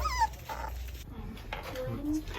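Little fluffy puppies whimper, yip and growl softly in short bursts, close by, with a person talking over them.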